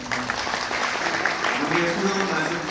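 Wedding guests applaud in a steady, dense wash of clapping that fills the hall throughout, fairly loud and continuous, with crowd murmur underneath.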